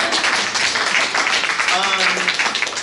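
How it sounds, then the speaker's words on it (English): Applause from an indoor audience for a theater group's performers, dense clapping mixed with voices and cheering, loud and close throughout the short stretch. "Give a round of applause for these people."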